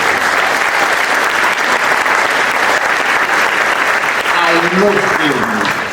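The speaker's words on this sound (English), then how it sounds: "Can we have a round of applause for David?" A panel-event audience gives a steady, loud round of applause that runs throughout, with a voice briefly rising over the clapping near the end.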